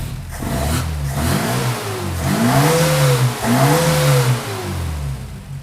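An Opel GT engine fitted with new Weber DCOE carburetors runs loud and close, revving up and down in repeated rising and falling swells over a rough, throaty idle.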